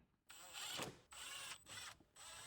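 Two screws driven back into a dash piece of a Jeep Wrangler TJ with a power driver, giving three close bursts of whirring, ratcheting mechanism noise separated by brief pauses, with no talk.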